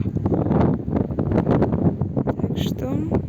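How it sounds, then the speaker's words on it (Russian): Strong countryside wind buffets the microphone in continuous gusty rumbles under the roar, while faint rustling sounds in the background. "у нас жуткий ветер"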